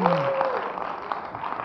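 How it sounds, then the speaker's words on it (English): Audience applause breaks out after a magic trick at a TEDx talk, a steady wash of clapping lasting under two seconds with a voice briefly audible at the start. "Ella, give them both a nice round of applause."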